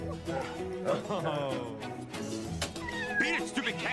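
A cat meows repeatedly in a video game, a series of rising and falling wavering cries over game music and effects.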